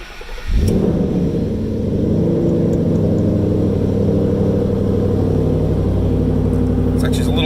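A 2012 Ford Mustang Roush Stage 3 with a 540 hp engine and a little low on fuel fires up with a sudden loud burst, then settles into a steady, deep rumbling idle close by.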